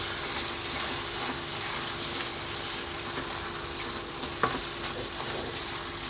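Crushed kidney beans are stirred into a sizzling red bean curry in a pan, giving a steady close frying hiss with one brief clink of a utensil against the pan.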